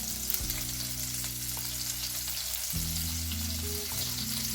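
Indian-style turkey patties frying in a pan, a steady close sizzle underneath a low sustained electrical hum that shifts pitch a couple of times, no talking.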